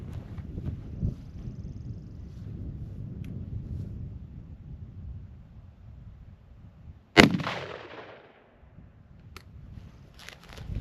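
A shotgun fires buckshot in a video game with a single sharp, loud blast whose boom decays over a second or two, heard over low rumbling background noise.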